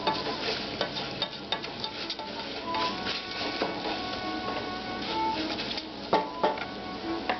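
Onion and rice stirred in a hot pan, with a steady sizzle and soft repeated scraping and clinking of a utensil against the pan, close up, with no talking.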